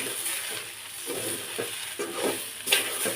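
Papaya frying in oil in a pan while being stirred, steady low sizzle broken by repeated scraping strokes of a spatula and a sharp clink near the end, no voices.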